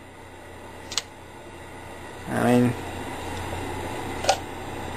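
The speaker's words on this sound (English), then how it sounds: "This is all there is to the shutter." An old Kodak Brownie box camera, about 70 years old, gives a short mechanical shutter click midway, set between two fainter ticks, with someone talking briefly nearby.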